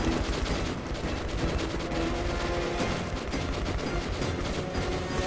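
Rapid, continuous fire from a rotating multi-barrel gun on alternate fire in Metro Last Light, a loud unbroken mechanical roar of shots that holds steady throughout without talk.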